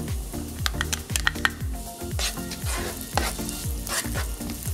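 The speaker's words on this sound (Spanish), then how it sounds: "Freímos hasta que nuestra cebolla está transparente." Onion fries in a hot oiled pan for spaghetti boscaiola, a bright close sizzle with rhythmic stirring scrapes and clicks repeating about twice a second, no talking.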